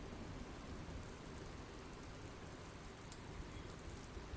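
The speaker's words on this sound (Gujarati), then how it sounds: "શહેર સહિત ગ્રામ્ય વિસ્તારમાં વરસાદી માહોલ જામ્યો છે" Heavy rain pours down in Savarkundla as a steady, dense hiss with scattered sharper drop patters, constant and fairly faint, with no voices.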